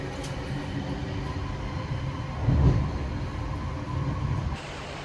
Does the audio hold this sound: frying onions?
no